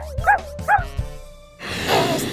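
Cartoon dog giving a few sharp, close barks in quick succession, followed after a short pause by a longer, brighter burst of noise.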